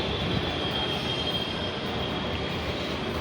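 An Ahmedabad metro train pulls into the station, its steady broadband rumble and rail noise continuous and fairly loud throughout, with no voices.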